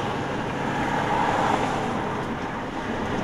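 A diesel truck motor runs steadily on the road during an emissions test, a continuous loud rumble with road and engine noise throughout and no breaks or talk.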